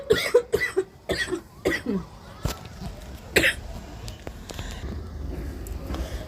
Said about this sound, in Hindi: सॉरी, थोड़ी सी खांसी आ गई है।